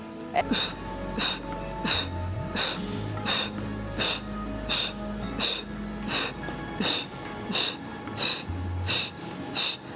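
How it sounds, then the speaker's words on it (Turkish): During a pilates exercise, breath is drawn in and pushed out in repeated rhythmic bursts, close and audible, while background music plays with a regular beat. "Nefes alıyoruz."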